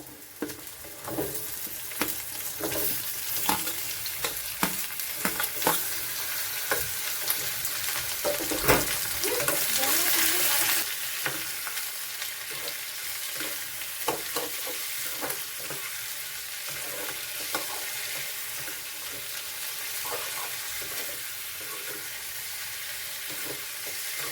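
Chicken sambar masala fries in a pan with a close, crackling sizzle, broken up by repeated scraping and stirring knocks and a brief louder burst midway.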